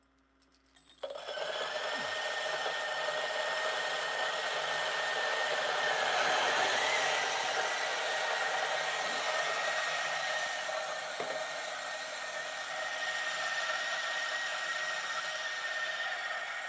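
A DF83 coffee grinder set to 1,000 RPM starts up and grinds espresso beans, a steady, close motor whir with a high tonal hum that holds for over fifteen seconds after a brief start.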